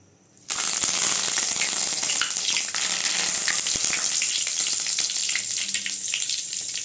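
Curry leaves hit hot oil in a pan for frying fish with a sudden loud sizzle that keeps crackling and hissing steadily, close up.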